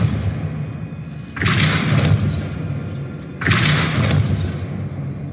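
Casting the Depulso spell in Hogwarts Legacy produces two heavy, booming whooshes about two seconds apart, each striking suddenly and then rumbling on loudly.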